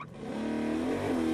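In the video game Agents of Mayhem, a car engine hums close and steady, then rises in pitch as it revs up, with no talk over it.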